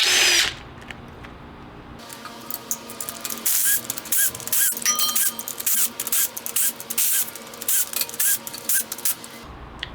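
A power tool spins out the bolts on the differential cover of a Chrysler 9.25 axle during a drum-to-disc brake conversion. Loud, close bursts of whirring start and stop repeatedly, with short pauses between them.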